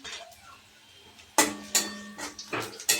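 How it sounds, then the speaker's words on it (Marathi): Garlic being pounded for churma in a kitchen, a faint rustle followed by several sharp metallic knocks of a pestle striking a mortar, close and fairly loud, spaced irregularly. "लसूण कुटून घेऊ"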